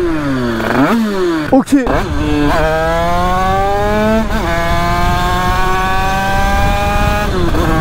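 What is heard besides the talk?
motorcycle engine cruising in sixth gear at about 85 km/h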